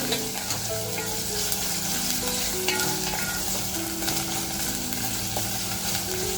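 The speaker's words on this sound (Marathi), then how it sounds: "ती चरबी आता टाकून घेते आणि ती सुद्धा आपल्याला छान फ्राय करून घ्यायची." Mutton fat frying in masala in a pan, a loud continuous sizzle close by, with stirring scrapes and occasional crackles scattered through.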